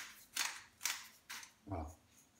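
A pepper mill grinds pepper over a salmon poke bowl in four quick, quiet crunching twists, each a short gritty burst separated by brief pauses.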